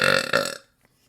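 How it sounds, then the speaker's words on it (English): A single deep, loud burp from a person, close up and lasting about half a second with a brief break, then silence. "Okay, the burp is out, I think."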